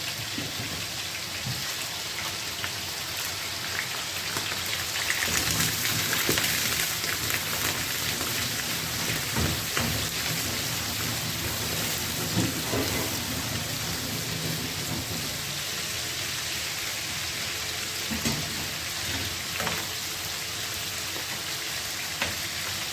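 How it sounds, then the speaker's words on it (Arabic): Liver searing in a hot pan for an Egyptian liver and gizzard tagine: a steady, dense sizzle that hisses like rain throughout, with occasional louder spits and crackles. "وفي نفس الطاسة هنبدأ ننزل بالكبد بتاعتنا نفس القصة، نديها صدمة"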